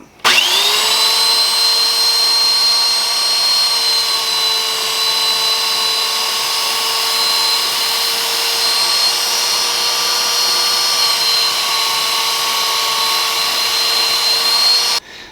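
A meat cleaver blade with chipped edges is sharpened on a power grinder or belt sander, producing a loud, sustained high whine with steady tonal ringing that spins up sharply at the start and cuts off abruptly at the end.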